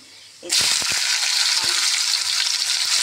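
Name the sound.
potatoes and green chillies sizzling in hot oil with nigella seeds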